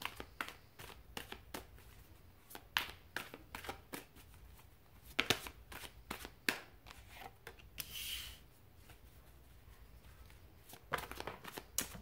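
Tarot cards shuffled by hand in a quiet room, a steady run of quick riffling and slapping bursts, close and moderately loud, with a brief crinkly swish partway through and no talking.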